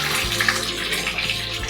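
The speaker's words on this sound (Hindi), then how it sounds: "अब हम इसी में अंडे को डाल देंगे। ये देखिए इस तरह से हम सारे अंडों को इसी में डाल करके फ्राई कर लेंगे।" Eggs dropped into hot mustard oil in a village-style pan, giving a steady, loud hissing sizzle that holds evenly throughout without pause, close up and with no voices.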